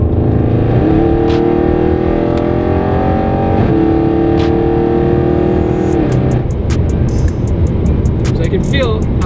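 A 700HP+ Audi RS6 Avant engine roars loudly with its exhaust pipes open, a harsh, raspy tone, its pitch rising through revs then dropping back, followed by crackling pops from the pipes.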